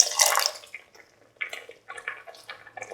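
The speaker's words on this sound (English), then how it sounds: "Now pour in some thick coconut milk." Thick coconut milk poured into a pan of sweet pasta, giving soft liquid splashes and drips in uneven bursts, loudest at the start and then in short irregular pulses.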